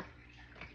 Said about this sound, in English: So I pour all those beads back into a cup.